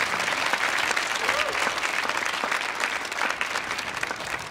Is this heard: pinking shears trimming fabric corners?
no